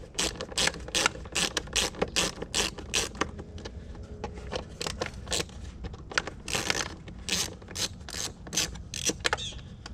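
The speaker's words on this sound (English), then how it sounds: "So I'm going to go ahead and remove there's two T15 Torx on it." Ratchet backing out T15 Torx screws from a map sensor during a cold air intake install on a 6.2 Silverado, rapid bursts of close clicking pawl strokes in uneven runs with short pauses.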